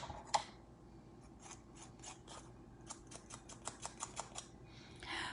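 Nail file rubbing across fingernails in short, repeated strokes, a run of quick scratchy rasps growing steadier toward the end, close and fairly quiet with no talking.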